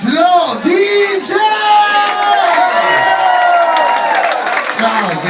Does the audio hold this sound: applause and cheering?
yes